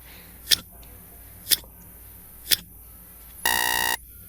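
Quiz countdown timer, three evenly spaced sharp ticks about a second apart, then a loud half-second buzzer tone, alone with no talk.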